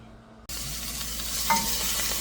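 Onions sautéing in a pan burst into a steady, loud sizzle after a short quiet start, with a faint stir or scrape partway through and no speech.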